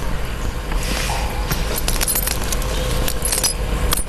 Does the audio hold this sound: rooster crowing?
no